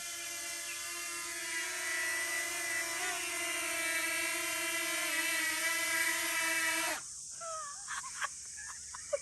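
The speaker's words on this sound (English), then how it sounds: "Oh, so it's like a drone selfie, and now it's coming back." A small DJI Flip drone hovers and flies nearby, its propellers giving a steady, loud, high whine that holds for several seconds and then cuts off abruptly, leaving quieter outdoor background.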